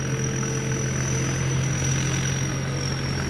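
A stainless-bodied combine harvester runs its J08C diesel engine at a steady idle, a constant, close mechanical drone with a faint high whine and no talking.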